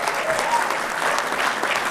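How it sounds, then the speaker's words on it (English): An audience applauds Lou Ferrigno at a sports hall of fame induction, with dense sustained clapping that fills the room evenly from start to finish. "Let's give Louis a big round of applause for doing that."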